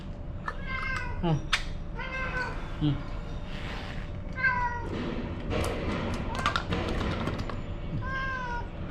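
A cat meows repeatedly in short, plaintive calls while people talk in the background.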